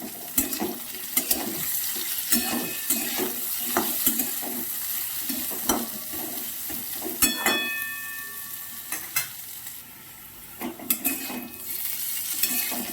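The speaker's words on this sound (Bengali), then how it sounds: "এবার আলু পেঁয়াজ দিয়ে এবার আমি একটু ভালো করে ভেজে নিই।" Potatoes and onions fry in a pan with salt and turmeric for a bitter gourd dish, a steady close sizzle broken by repeated scraping strokes of a spatula stirring them, with no talking.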